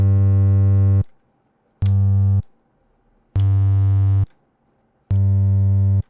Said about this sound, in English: And you have a gritty 808, which is never ending.